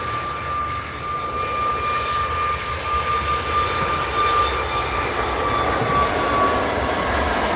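A Ryanair airliner departing Manchester Airport from runway 23L, its engines a steady, loud broadband roar with a thin whine held throughout, no talk over it.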